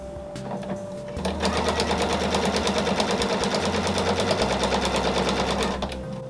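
Domestic sewing machine stitching binding onto a quilt, a steady rapid mechanical whir with dense needle clatter that runs loud and continuous for several seconds, starting after a brief quieter lead-in.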